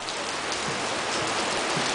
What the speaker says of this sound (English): St. Augustine Beach on a Wednesday afternoon rainstorm